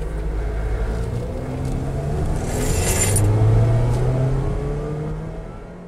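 A car with a 2.3-liter engine drives along, its steady engine hum and road noise swelling into a gentle rev near the middle before easing off, heard close from inside the cabin with no talking.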